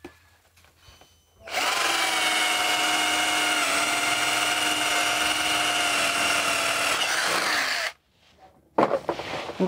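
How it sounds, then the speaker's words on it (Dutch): An electric drill runs in a craft workshop, one sustained high whine lasting about six seconds, loud and close, with quiet pauses before and after and a brief clatter at the end. "Ik gebruik een boormachine."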